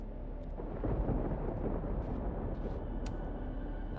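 A thunderstorm in the Life is Strange: Double Exposure video game rumbles low and continuous, a deep rolling thunder bed at moderate level with faint crackles on top and no voices.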